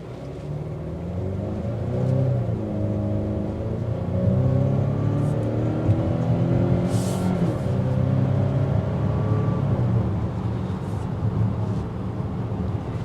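Turbocharged smaller-engine 2023 Volvo XC90 B5 pulling away from a stop in the middle of the road, a steady rising engine drone with road and wind rumble building over several seconds, heard from inside the cabin.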